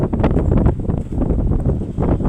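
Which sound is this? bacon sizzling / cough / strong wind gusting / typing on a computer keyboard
strong wind gusting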